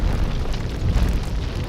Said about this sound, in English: Boom. Reactor down.